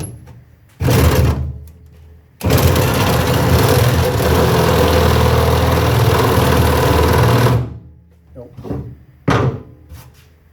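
A power drill whirs steadily for about five seconds, loud and close, with brief knocks and handling noises before and after, drilling a guide hole while installing a Delta Eldridge kitchen faucet.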